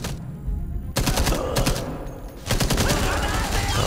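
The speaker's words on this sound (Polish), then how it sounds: "słyszę MG-42" MG-42 machine gun fire in the World War II shooter game Enemy Front: loud, rapid bursts of automatic fire that break off and start again, with a brief pause between bursts.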